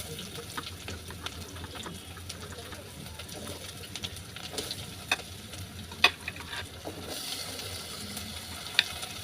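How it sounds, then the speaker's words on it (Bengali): Chopped garlic, onion and potato fry steadily in hot mustard oil, giving a continuous hiss with occasional sharper crackles and stirring knocks, while a voice talks over it. "এখন তেল গরম হয়ে আসলে আমি এক এক করে সব কেটে রাখা রসুন, পেঁয়াজ, আলু দিয়ে দেব। এটা ভালো মতো একটু ভেজে নেব।"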